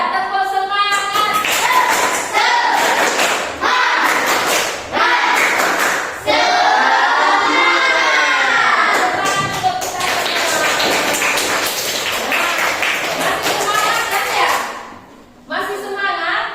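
A primary-school class performs a rhythmic 'tepuk semangat' clapping routine: crisp, close claps in patterned bursts, mixed with loud group chanting and shouted voices throughout.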